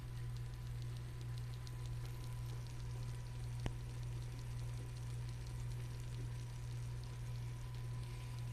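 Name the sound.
bubbling broccoli and blue cheese casserole fresh from the oven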